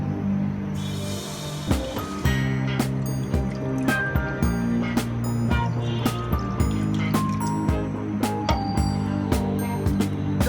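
Water is poured from a glass into a frying pan in a home kitchen, making a loud, steady liquid fill with sharp metallic clinks and drips throughout, and no speech.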